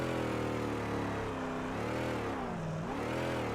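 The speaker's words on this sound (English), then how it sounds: "adjust the RPM of the car, and it affects the sound" Synthesized car engine from a custom game audio system, a steady droning hum whose pitch rises, dips and rises again as the RPM is adjusted, loud and alone with no voices.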